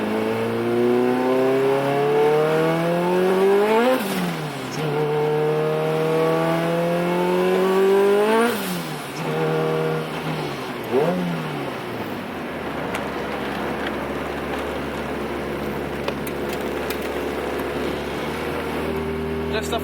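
A turbocharged car running 25 psi of boost accelerates on the road, its engine climbing through several rising rev sweeps with gear changes before settling into a steadier cruising drone, loud and close.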